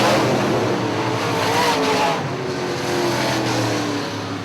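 UMP modified race cars roar around the final turn toward the checkered flag at Hartford Speedway Park, a loud, continuous engine drone with rising and falling revs as the pack passes close by.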